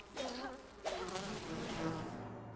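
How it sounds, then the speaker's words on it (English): Bees buzzing in the survival crafting game Enshrouded, a steady droning hum of insect wings that swells twice in brief surges, with no talk over it. "Killed the bees."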